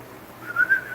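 A person whistles a short, rising tonal whistle, a single brief phrase heard alone against a quiet background with no talking.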